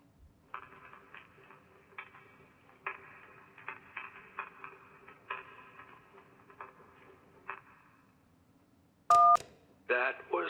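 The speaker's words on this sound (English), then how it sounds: "That was someone burning a phone book." A phone book burning in Kentucky Route Zero comes through a thin, telephone-filtered line as a crackling, popping rustle lasting several seconds, followed by silence, a sharp electronic keypad tone and a short burst of further noise.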